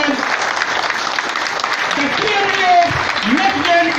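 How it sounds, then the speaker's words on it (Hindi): Loud crowd applause during a standing ovation at a corporate business event, continuous dense clapping with a voice speaking over it. "एक बार पुनः जबरदस्त तालियों के साथ में मेरा सहयोग कीजिए और एक बार जबरदस्त तरीके से स्टैंडिंग ओवेशन"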